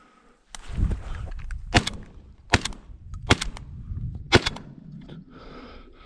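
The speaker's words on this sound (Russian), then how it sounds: "Уже стрельба лучше пошла." Four sharp shotgun blasts during a duck hunt ring out at irregular intervals, each a loud crack with a short echo, over faint background murmur.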